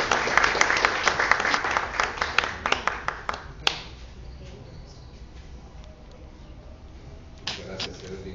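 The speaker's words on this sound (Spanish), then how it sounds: "Recibamos con un aplauso grande." An audience claps at a spiritist talk in Guatemala: a burst of applause for a few seconds, then it thins to scattered claps and fades into room quiet, with a couple of late claps near the end.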